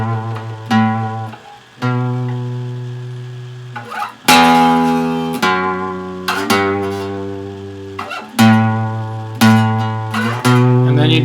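Electric guitar power chords from the intro of a song, twanged with a loud attack and left ringing, each chord decaying before the next strike, played alone and up close.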